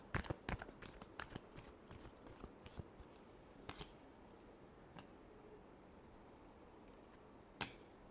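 Tarot cards being shuffled by hand, a run of crisp snapping riffles at first, then quieter rustling with a few sharp clicks spaced apart.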